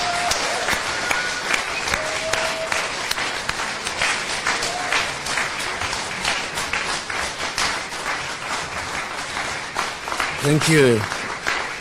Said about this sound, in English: with thunderous applause and vigelegele, please join me in welcoming our guest